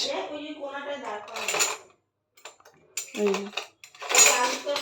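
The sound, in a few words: fetching a spoon, cutlery clinking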